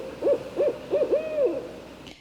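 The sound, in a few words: owl hooting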